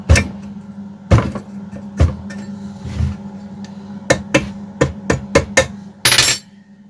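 Someone knocks the screw lock pieces off an Emak petrol brushcutter, hammering in loud, sharp metallic blows. Several spaced strikes come first, then a quicker run of taps, and the clip ends in a short rattling burst.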